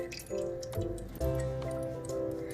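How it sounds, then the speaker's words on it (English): Water is poured over sprouting beans in a pot, giving close, soft dripping and wet splashing in a few uneven bursts, with no talking. "Then you pour the water again."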